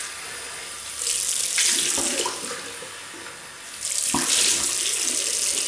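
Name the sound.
hot water running from tap into sink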